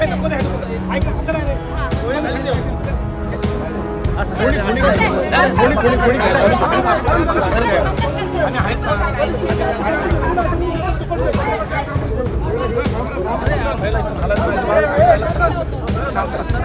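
A dense crowd at a street commotion in Sawantwadi fills the air with continuous loud chatter and babble. Many voices overlap nearby and keep the noise steady.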